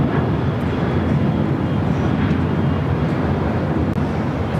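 An Airbus A350 jet airliner at LAX gives a loud, steady roar of broadband jet noise that stays even throughout, with some wind buffeting on the microphone and no talking.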